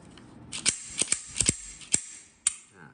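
A blank-firing SIG Sauer P365 replica pistol being assembled, its pin pressed into the slide with the thumb: a series of sharp, close metallic clicks and snaps, about six distinct, loud against a quiet background, irregularly spaced.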